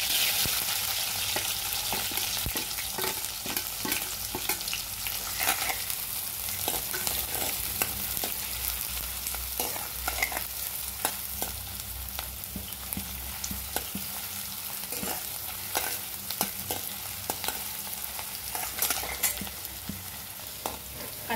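Onion fries in a pan with mustard seeds and green chillies. A bright, continuous sizzle runs throughout, and frequent scraping and clinking stirring strokes sit close and clear, with no talking.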